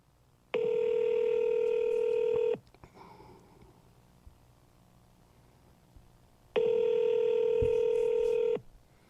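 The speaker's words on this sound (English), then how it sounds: "Let's see if we can get Vlad on the phone." A phone call placed through Google Voice rings out with two long, steady electronic ringback tones, each about two seconds and separated by a quiet gap with a faint voice in it.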